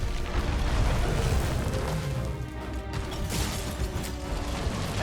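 Explosions in the Monster Hunter World video game, rumbling booms and crashes that run together into a loud, dense burst with mechanical clatter and no clear talk.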